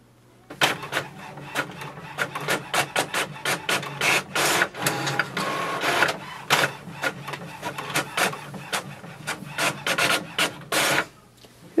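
An HP OfficeJet Pro 8022 inkjet printer printing two pages, close and loud, with rapid repeated rasping print-head passes and paper-feed whirs in a stuttering rhythm, no talking.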